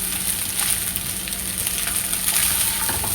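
Restaurant-style chicken rice with spring onion is stir-fried and gently mixed in a pan: a constant loud sizzle with scattered scrapes and clinks of the spoon against the pan.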